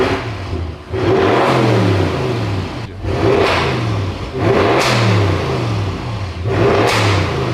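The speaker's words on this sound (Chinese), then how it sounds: "车子的声音非常的吵，有些要爆炸的感觉" A repaired Audi RS6 engine, freshly topped up with coolant, starts and revs hard in repeated loud bursts, each rising roar settling briefly before the next, very close and harsh.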